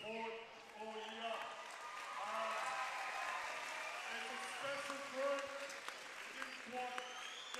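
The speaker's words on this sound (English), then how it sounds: "a lot of people sticking around to cheer on the Meteors" A basketball crowd at a men's semifinal, Mackay against Cairns, applauds and cheers in a steady, distant wash, while a commentator talks over it throughout.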